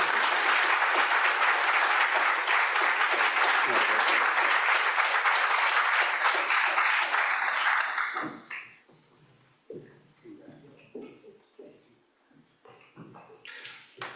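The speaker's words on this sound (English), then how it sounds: "if we give them each a round of applause in their way" At an annual remembrance gathering, the audience applauds with a loud, dense round of clapping that holds steady for about eight seconds. It then fades into quiet room noise while a voice begins to talk.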